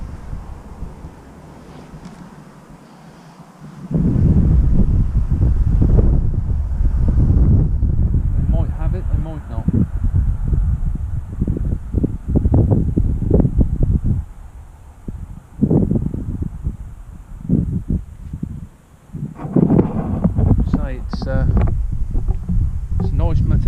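Wind blowing across open water while fishing, a steady broadband rush that swells and gusts close to the microphone for most of the clip after a quieter opening.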